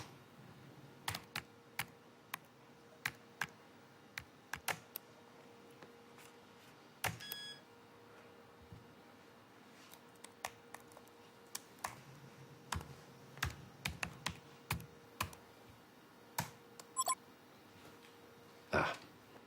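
A password being keyed in on a computer keyboard: sporadic soft clicks in short clusters, near and quiet over a faint room hush, with a faint beep and no talking.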